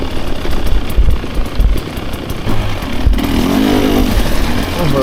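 A 2024 Husqvarna TE 300 dirt bike engine lugs at low revs while riding, a loud, deep chugging rumble that rises and falls unevenly, heard close with wind noise and no talking.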